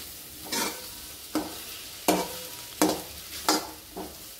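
Capsicum sautéing in oil in a pan: a soft constant sizzle with six distinct scraping stirs at a loose, roughly even rhythm, close and clear, no voices.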